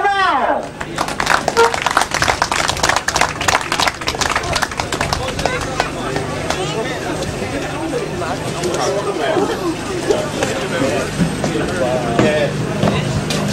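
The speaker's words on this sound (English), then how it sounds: "I'm sure you'll give them a big round of applause" Crowd applause for riders at a grasstrack championship event, a dense wash of clapping over a noisy outdoor background, with a commentator's voice and chatter running over it throughout.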